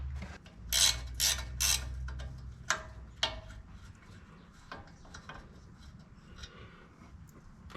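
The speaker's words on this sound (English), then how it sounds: "I'm just going to disconnect this bolt" A ratchet wrench works a bolt loose on an FJ Cruiser's front suspension, with several quick bursts of metallic clicking up close, followed by scattered lighter clicks and clinks against a quiet background.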